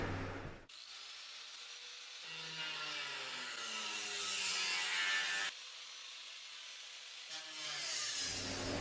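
A power tool cuts into metal pipe while a DIY coal or wood forge is being built, giving loud, close bursts of high grinding whine that rise and fall in pitch, with brief pauses between passes.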